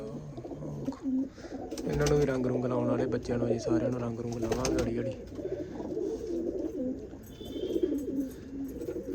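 Pigeons coo in low, repeated rolls around a kept flock, partly under someone talking loudly close by.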